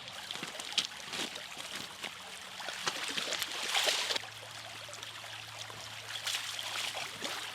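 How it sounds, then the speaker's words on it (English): Creek water flowing outdoors, a steady soft trickling and babbling that holds at an even level throughout with light rustling and small knocks over it. "Got a nice creek here"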